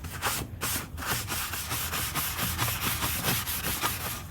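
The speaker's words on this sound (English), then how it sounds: "It's been 5 minutes, so I'm going to go ahead and wipe off the excess." Cloth wiping excess finish off a wooden mid-century modern dresser, rapid rhythmic back-and-forth rubbing strokes, close and steady throughout with no talking.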